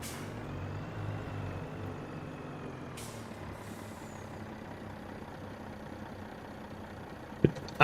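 An air brake on a truck in a driving game hisses with a sharp release over a low idling engine rumble, followed near the end by a couple of abrupt clunks.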